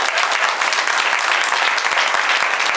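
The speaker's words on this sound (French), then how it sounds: "Applaudissez-les." Audience applause at an improv match, loud and steady, with distinct claps standing out from a dense, even wash of clapping throughout.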